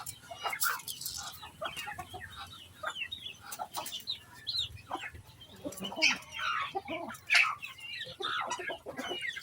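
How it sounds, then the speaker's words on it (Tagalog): Native chickens cluck and squawk in repeated irregular bursts, fairly close, with several birds calling over one another across the yard. "Yung mga manok."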